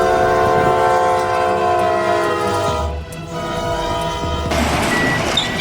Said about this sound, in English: The train was hitting so much snow, the engineer just laid on the horn the whole trip.